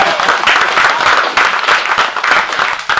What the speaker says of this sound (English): Everybody applaud for Thursday County Commissioner Carolyn Mej